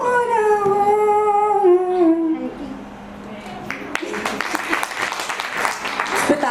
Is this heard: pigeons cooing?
no